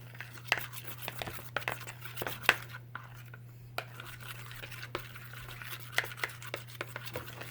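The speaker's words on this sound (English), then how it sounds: "So I'm just going to mix that together." Slime ingredients are stirred together in a bowl, giving soft, irregular scraping and clicking sounds of a utensil against the bowl over a steady low hum, with no talking.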